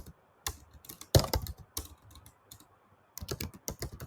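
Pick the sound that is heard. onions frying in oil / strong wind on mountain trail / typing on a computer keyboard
typing on a computer keyboard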